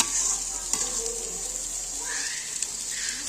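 Pilau rice cooking in a hot pot for chicken biryani gives a steady, close frying sizzle and hiss that holds evenly throughout, with faint stirring scrapes.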